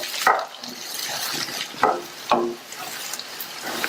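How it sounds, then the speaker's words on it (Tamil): Sliced radish slowly sautés in oil over a low flame. Three or four sharp spatula scrapes and clatters rise above a soft, quiet frying hiss. "7 நிமிஷமா முள்ளங்கி வதங்கிட்டு இருக்கு"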